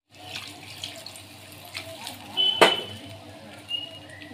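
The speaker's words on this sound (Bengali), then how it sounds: "আর একটু জল দেব।" Water is poured into a thin fish curry as it cooks in a home kitchen, a soft splashing trickle with a sharper clink partway through, heard close and fairly faint.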